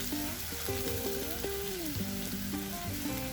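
Onions, green chillies and curry leaves fry in a pan for a prawn and egg curry, giving a steady, dense sizzle throughout, with a melodic background tune playing over it.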